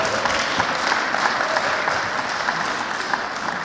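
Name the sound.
applause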